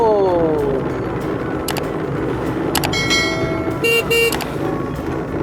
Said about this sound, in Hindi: ये है हॉर्न और वाइपर।